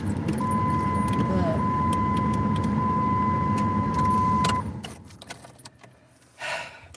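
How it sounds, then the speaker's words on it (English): Cars speed past outside at night as people leave a bar, a loud sustained road roar that holds for several seconds before fading off, followed by a short softer swell. "They're driving fast."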